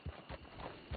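Horse hooves clip-clop in Red Dead Redemption 2, three or four dull, muffled thuds at a slow walking pace, faint and close with no speech.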